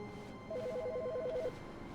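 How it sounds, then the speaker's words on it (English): A telephone rings in the video game The Stanley Parable, a single stretch of rapid warbling electronic trills about one second long, moderately loud over a low hum of room tone. "It's a phone call."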